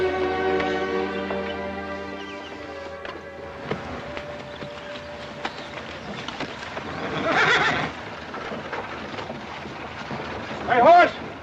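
A horse whinnies in a western film scene, its long drawn-out call opening the clip, followed by scattered hoof thuds and rustling outdoors and another rising whinny near the end.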